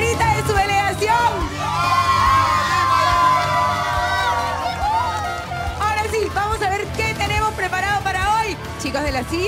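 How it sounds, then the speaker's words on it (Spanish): A crowd of young people at a televised casting event yells and cheers loudly for their delegation, with whoops and high-pitched shouts rising and falling throughout. "¡Griten una barrita de su delegación!"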